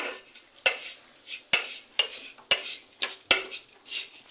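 Batata poha, potato with flattened rice, is stirred briskly in a pan. A spoon knocks against the metal about six times in a loose rhythm, with soft scraping and a light sizzle between strokes.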